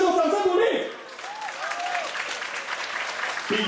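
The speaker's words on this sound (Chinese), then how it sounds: "再次给两位选手掌声鼓励" Studio audience applauds two female kickboxers after a top-level kickboxing prize bout at the Hualien fighting event, a dense burst of clapping that carries on steadily, with a commentator's voice heard at the start.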